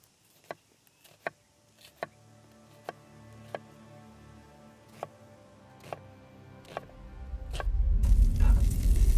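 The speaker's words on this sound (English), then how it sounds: "Sausages are done. Sizzling, squeaky sausages." Sausages sizzle in a pan for a curried sausage dish: a run of sharp, evenly spaced ticks and pops gives way to a swelling, loud hiss of frying fat near the end.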